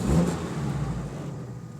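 A light 2,000-pound car with a 75-horsepower engine revs up close by, a loud burst of engine noise settling into a steady mid-pitched hum.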